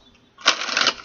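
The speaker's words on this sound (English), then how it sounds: "One more shuffle." A deck of tarot cards is shuffled once in a quick riffle: a short, bright burst of rapid fluttering card clicks lasting about half a second after brief quiet.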